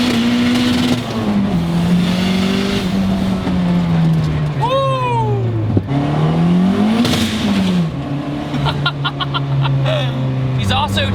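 Turbocharged 400 hp Ford Escort sleeper engine revving and pulling hard, loud and steady with rising and falling pitch, a brief whine near the middle, under continuous talk from inside the car.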